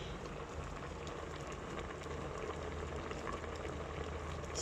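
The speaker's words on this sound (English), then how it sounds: "can you guys see it's boiling away?" Sweet potato boiling in a Milex XL pressure cooker, a steady, even bubbling hiss that fills the whole stretch without letting up.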